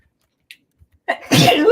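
A single loud, close sneeze, preceded by a quick breath intake and followed by a brief rough burst of noise.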